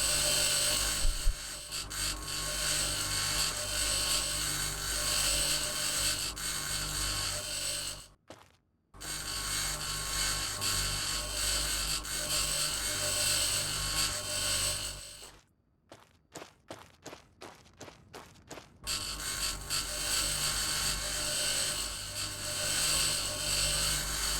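Grinder tool scrapping parts in the Mars colony game Occupy Mars, a loud sustained mechanical whir that cuts out abruptly twice, then resumes after a stretch of rapid stuttering bursts.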